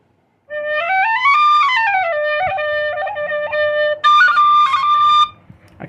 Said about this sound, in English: I think what I'm also going to do is bring my Irish tin whistle.